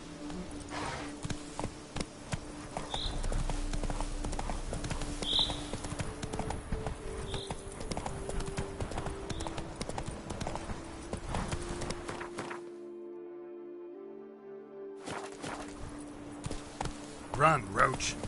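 Roach, the horse in The Witcher 3: Wild Hunt's Blood and Wine, gallops with a steady rapid clip-clop of hooves over game music and voices, cutting out briefly before resuming.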